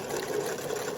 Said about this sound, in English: And then I'll sew until that bit of fabric clears.